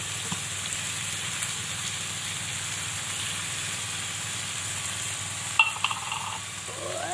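Corned beef and potatoes sizzle steadily in a pan, a constant close frying hiss with faint scraping as they are stirred, ending in a couple of sharper clinks.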